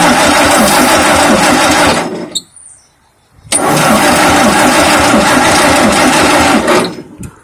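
Wisconsin 30 HP engine on a Mayco concrete pump, long unused, running loud and close with a rapid clattering chug, cutting out for about a second, then restarting with a sharp burst and running on before dropping away.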